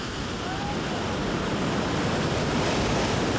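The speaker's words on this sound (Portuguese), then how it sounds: "A maré sobe, as ondas chegam a mais de 3 metros de altura e quebram com força" Big ocean waves over 3 metres high break forcefully against rocks around Ilha Anchieta, a loud continuous roar of surf that swells slightly toward the end.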